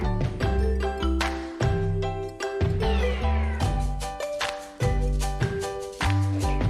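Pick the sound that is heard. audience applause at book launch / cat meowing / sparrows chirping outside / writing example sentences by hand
cat meowing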